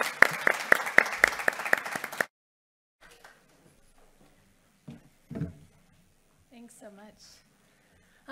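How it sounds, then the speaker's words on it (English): Audience applause welcoming a woman doctor to the podium at a mental health and psychosocial support talk, a dense burst of clapping lasting about two seconds before it stops abruptly, followed by quiet room noise and faint speech. "Please welcome her with a nice round of applause."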